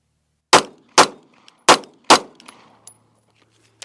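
A handgun fires four sharp, loud shots at an even pace, each followed by a short ringing decay, then a faint clink or two in the quiet after.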